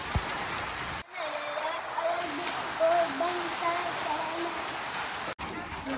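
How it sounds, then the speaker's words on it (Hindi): Heavy monsoon rain pours down steadily in Bihar or Jharkhand, a dense close hiss with brief cutouts, while people talk over it. "बहुत ही तेजी से हो रहा बारिश।"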